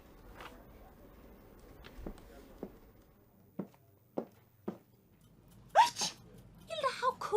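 A character sneezes in the video game Murder in the Alps, a short burst near the end that comes after a few soft taps and footsteps in a quiet scene.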